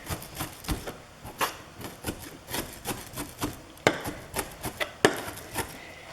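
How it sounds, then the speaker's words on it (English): Knife chopping onion on a cutting board while preparing a watermelon and feta salad, a steady run of close, crisp chops with a couple of sharper, harder strikes near the end. "let's just do another little chop, make sure that it's really nice and fine"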